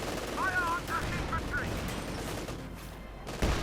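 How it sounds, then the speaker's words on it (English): Machine gun fire in the strategy game Company of Heroes 2 sounds as rapid rattling bursts amid battlefield noise, ending with a sharp, louder report, while a commentator talks over the action. "Machine gun engages the rifleman up close."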